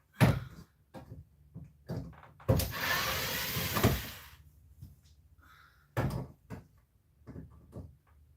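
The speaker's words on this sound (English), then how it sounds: "Door." A door opens and shuts with wooden knocks and thuds, a long scraping slide in the middle and scattered clunks around it, fairly close with no talk.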